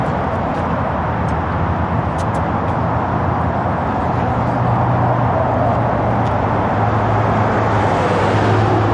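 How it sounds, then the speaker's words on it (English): Steady road traffic rolls past beside a polluted storm drain, a continuous loud roar of cars and heavier vehicles with a low engine drone swelling in the second half, no talking. "I really should wait for the traffic to pass."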